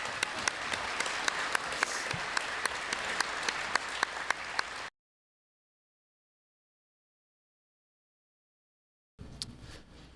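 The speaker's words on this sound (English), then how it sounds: "Now we can give them a warm round of applause." An audience at a congressional district forum applauds in a dense, even burst for about five seconds, then a long silence, then the clapping resumes briefly near the end.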